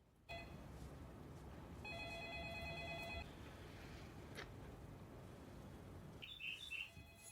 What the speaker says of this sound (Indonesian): Telepon lalu berdering.